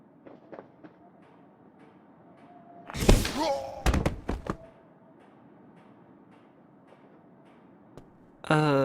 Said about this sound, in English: Hope no one heard the explosion.